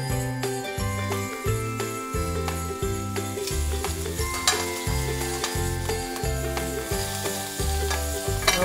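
Prosciutto-wrapped meat searing in a hot pan gives a steady close sizzle, with a light clink of cookware over a strong repeating background music track; nobody speaks.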